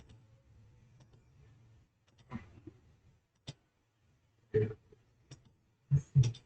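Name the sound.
computer mouse clicking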